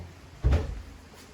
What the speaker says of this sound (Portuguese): deixa eu abrir aqui a porta aqui rapidinho